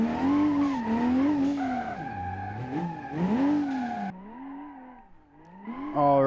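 A drift car in BeamNG.drive, fitted with a drift parts mod, wails through a lap, its engine rising and falling in pitch while the tires squeal in sliding bursts, then briefly lifts off before revving again.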